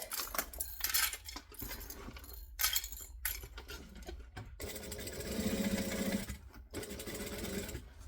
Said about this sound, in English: And then back to the start and back stitch.